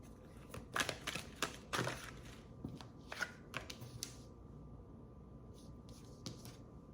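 Tarot cards being shuffled by hand in a quiet room, a run of soft riffling bursts and papery slaps in the first half that thin out to a few scattered flicks.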